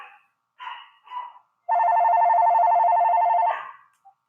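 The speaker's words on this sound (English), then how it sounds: "The fax is going off behind the secret door over there." A fax machine rings behind a hidden door: an electronic ringing tone holds steady for nearly two seconds after a few brief soft sounds, fairly loud and fading at the end.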